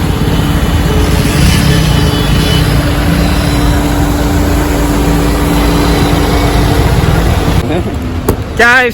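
Vehicles and buses sit idling in a long traffic jam on a river bridge in Raebareli, a loud steady low engine drone and rumble throughout, with a brief mechanical whine near the end.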